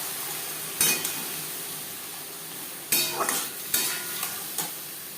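Water lily stems frying in spluttering mustard oil with mustard seeds, a constant bright sizzle broken by several sharp clinks and scrapes of a utensil against the pan; close, no talking.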